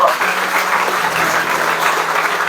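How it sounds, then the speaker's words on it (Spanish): A church congregation claps loudly and continuously, a dense, close wash of applause with no pauses. "Ese aplauso fuerte al Rey de Reyes, maravilloso Señor."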